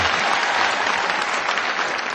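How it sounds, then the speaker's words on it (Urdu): Audience applause welcomes a poet at an Urdu poetry gathering, a dense, steady burst of many hands clapping, loud and continuous with no voices over it. "دوستو زوردار تالیوں سے استقبال کریں"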